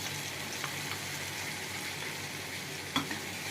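A mixed paste of turmeric, cumin and other ground spices hitting hot oil for a Bengali fish curry with potato, a steady low sizzle with a couple of small pops, close and fairly quiet.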